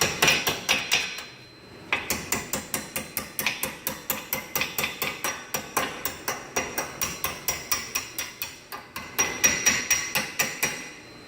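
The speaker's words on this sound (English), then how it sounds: "just get a little hammer." Steady metallic taps of a small hammer ring out in a quick even rhythm during brake work on a 2005 Nissan 350Z, close and fairly loud, with a short pause near the start before the tapping resumes.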